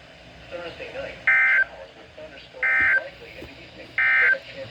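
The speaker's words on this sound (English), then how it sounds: "This has been a test of the NOAA Weather Radio public warning alarm system." NOAA Weather Radio weekly test alert received on a Midland WR120 receiver: three loud, identical electronic tone bursts spaced about 1.4 seconds apart over a faint background of broadcast speech.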